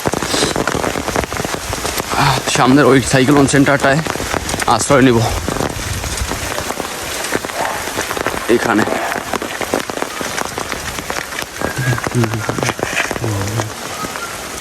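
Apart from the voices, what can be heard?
heavy rain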